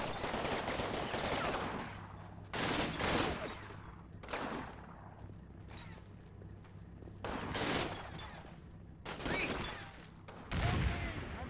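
Rifle and machine-gun fire comes in repeated bursts of several seconds each from an infantry team on an upper floor in the video game Final Blitzkrieg, with crackling volleys separated by quieter pauses.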